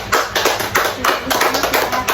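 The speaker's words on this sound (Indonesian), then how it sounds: "Tepuk tangan dulu buat Marisa." Classroom group of students clapping for a classmate during a career guidance session, a steady run of quick, close hand claps with no talk over it.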